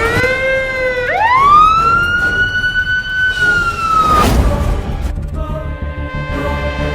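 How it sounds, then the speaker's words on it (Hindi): Fire engine siren arriving at a blaze near an army border post, a loud wailing tone sweeping upward and holding before cutting off, with engine rumble continuing afterward. "मैंने फायर ब्रिगेड को फोन कर दिया था और वो आ चुकी है।"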